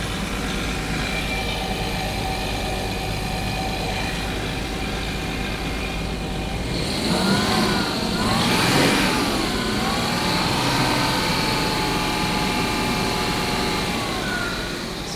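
An old V12 car engine, revived after sitting 20 years and leaking oil smoke from its valve covers, runs steadily, then the revs are raised and held, giving a louder, rougher rising drone before settling back.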